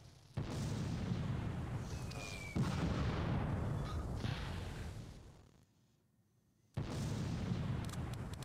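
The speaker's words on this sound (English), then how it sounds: "you can see the mortars are pounding these German troops behind this wall" Mortar fire from the video game Close Combat 2 pounds German troops behind a wall, heard as loud sustained booming blasts that briefly drop away to near silence before erupting again.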